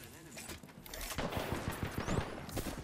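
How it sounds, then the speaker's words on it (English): Rapid gunfire bursts from a battle royale shooter, Apex Legends, crackle densely through the second half, layered with other game effects and a steady low-level wash. "Where did other shots come from?"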